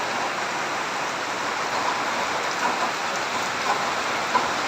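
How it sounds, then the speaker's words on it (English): Steady rain pours down on a house under construction in the Philippines, a dense even hiss of drops striking surfaces, with a few slightly louder patters near the end and no talk. "Still rainy a bit"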